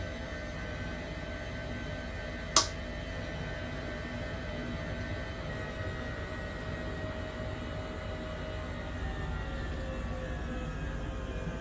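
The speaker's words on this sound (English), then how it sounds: "Okay, we'll have engines off now." H145 helicopter engines in Microsoft Flight Simulator, steady droning hum with faint whine tones fading slowly after shutdown, one sharp click near the start, no talk.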